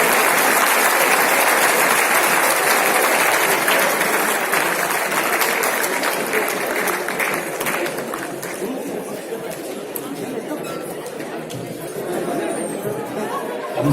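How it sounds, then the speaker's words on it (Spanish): Audience applause after a conference talk at an international administrative sciences congress, dense clapping that is loud at first and gradually thins, with murmured chatter mixed in. "a quien quisiera brindarle un fortísimo aplauso, por favor"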